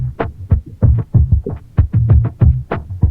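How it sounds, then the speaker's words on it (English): Kick drum in an MF DOOM-style hip-hop beat, layered with a tuned booming tail, thumps in a steady syncopated pattern of deep, resonant hits, close and loud with no other sounds. "he also added another tuned tail sound for the kick drum"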